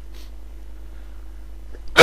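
One sharp, loud human sneeze bursts out at the very end, after nearly two seconds of quiet room hum.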